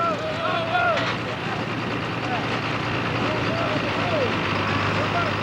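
An International 7220 pulling tractor smokes down the track at a 1995 tractor pull in Shepherdsville, Kentucky, its engine a steady loud roar with crowd noise and a shifting higher whine riding over it, while an announcer talks throughout.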